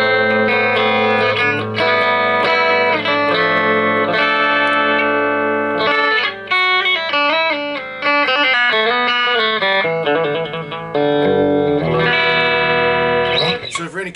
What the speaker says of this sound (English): I'm going to click on that treble boost and you'll really hear how it brightens it up